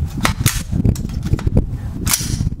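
Sharp bursts of M16 rifle fire from one magazine shot at a bear target, rifle without attachments, several loud cracks spaced irregularly over a low rumbling background.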